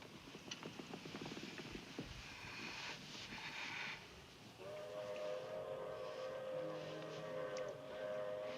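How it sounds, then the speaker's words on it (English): The 904 to Barstow, a distant train, passes faintly through a quiet spot near the city, its low steady rumble and whistle-like tones rising softly in the second half. "Hear that? That train? That's the 904 to Barstow."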